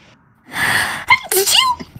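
A single sharp sneeze, preceded by a short gasping inhale, bursts out close and loud amid casual friends' chatter during a Destiny 2 raid session.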